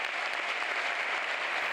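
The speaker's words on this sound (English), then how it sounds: "The night ended with a round of applause while the performers took their final bow" A theatre audience applauds as performers take their final bow, a dense, even wash of clapping that holds steady from start to finish with no other sounds.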